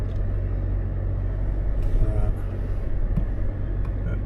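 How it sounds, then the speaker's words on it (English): A Toyota Land Cruiser crawls down a steep slope on private land in normal four-wheel drive, giving a steady low engine rumble with faint rattles and bumps and no clear talk over it. "This car just, yeah, well, you can't beat a Land Cruiser."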